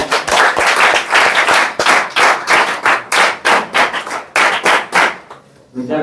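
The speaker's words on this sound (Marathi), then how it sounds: "आपण जोरदार टाळ्या वाजवून धन्यवाद व्यक्त करूया." Loud applause from a crowd of students at a guidance camp welcome ceremony, dense rhythmic clapping filling the room for several seconds before thinning out at the end.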